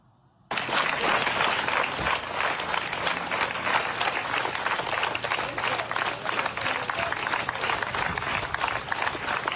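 Sustained, dense applause from colleagues bidding farewell to an actor and soldier at the Kyiv Academic Drama Theatre on Podil, starting abruptly after a brief quiet moment and continuing steadily at full strength.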